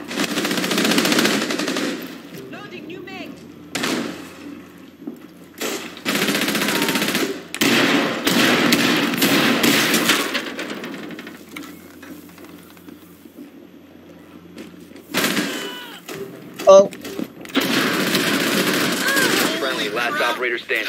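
Machine gun fire in the video game Rainbow Six Siege comes in loud, dense bursts separated by short quieter gaps, with a voice talking now and then through the shooting.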